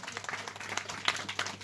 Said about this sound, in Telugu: చప్పట్లు కొట్టండి గట్టిగా ఒకసారి,